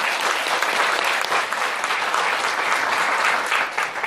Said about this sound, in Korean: 박수 한번 쳐드려요, 이분들. 실버 이상. 크게 쳐주세요, 크게.